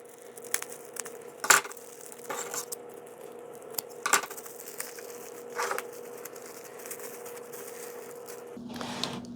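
Scissors cutting into a small plant pot and its roots, a series of separate crunching, crinkling snips spaced a second or two apart, close to the microphone in a quiet room.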